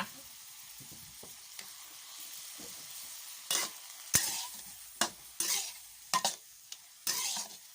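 Pork sweetened with sweet soy sauce is stir-fried until dry, giving a low background sizzle broken by several loud, scraping stirring strokes against the pan in the second half. No one talks.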